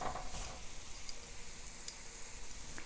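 Plantain slices for tostones frying in hot fat in a pan, a steady close sizzle and crackle with small pops throughout and no talking.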